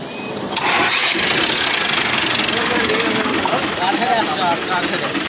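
A tractor engine cranks and catches, then settles into a loud, steady rumbling idle close by, with people talking over it.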